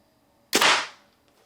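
An arrow fired from a speed-tuned bow gives a single sharp, loud snap followed by a short whooshing decay, heard once and alone against quiet surroundings.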